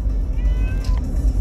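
A cat meows softly and thinly inside a moving car, a brief drawn-out cry over loud, steady low road and engine rumble.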